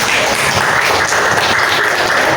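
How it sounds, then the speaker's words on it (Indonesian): Applause in a classroom after students act out a butterfly metamorphosis skit: steady, dense clapping from a group of children, close and fairly loud throughout with no voices over it. "Tepuk tangan semuanya."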